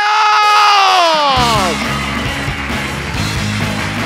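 A loud crowd roars, cheering and screaming as one rising, falling tone sweeps downward, then a dense wash of cheers continues with a steady thumping beat beneath.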